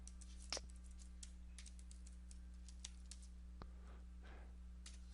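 Someone types on a computer keyboard while writing numpy code. Faint, scattered key clicks sit over a steady low electrical hum, with no speech.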